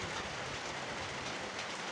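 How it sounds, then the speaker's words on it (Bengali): Fine drizzle coming down in Niamatpur, Naogaon, a continuous gentle patter and hiss, faint and unbroken, with nobody speaking. "বৃষ্টির শব্দ টিপ টিপ করে পড়ছে"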